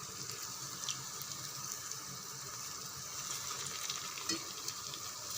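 Vada frying in hot oil, a quiet, steady bubbling sizzle with occasional soft clinks, continuous and fairly faint.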